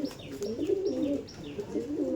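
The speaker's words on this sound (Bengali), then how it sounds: "এটা অন্ধ্রা পায়রা আছে, একদম অরিজিনাল অন্ধ্রা ব্রিড" Andhra breed pigeons coo close by in soft, repeated rolling calls, with faint higher chirps mixed in over a quiet background.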